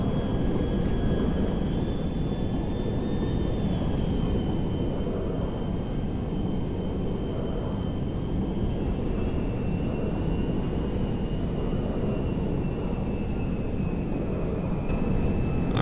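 C-17A Globemaster III engines in GTA 5 drone steadily and loudly throughout, a constant high-power roar with a thin whining tone above it and no voices.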